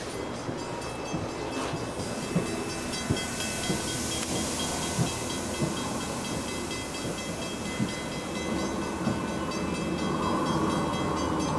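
Amtrak long-distance passenger train at Glenview, Illinois, a steady rumbling roll with hiss and regular clickety-clack wheel beats on rail joints, heard alone at moderate distance.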